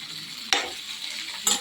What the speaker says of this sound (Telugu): ఈ బౌల్ నిండా వచ్చిన దాన్ని ఈ కాగిన నూనెలో వేసి వేయిస్తాను